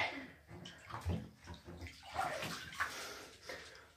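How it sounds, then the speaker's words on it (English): Water sloshing in an ice bath as a person lowers their knees under the surface: irregular close splashes and swirls, fairly quiet, with faint breathing movement. "Put my knees down under the water."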